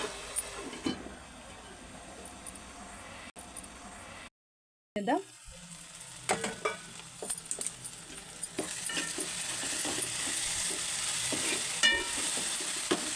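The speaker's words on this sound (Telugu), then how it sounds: "చూడండి ఎంత బాగా ఉడుకుతున్నాయో టమాటాలు" Tomatoes cook in a pan for dry prawn curry with a steady close sizzle and hiss, stirring scrapes scattered throughout, a brief dropout early on, and the frying growing brighter and louder toward the end.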